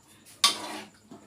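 A spoon stirs cooked lentils in a pressure-cooker pot: a single short, quiet scrape of metal against the pot, then a soft tap.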